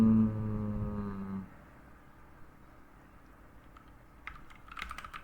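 Faint keystrokes on a computer keyboard come in a short, light burst near the end, after a steady tonal hum fades out.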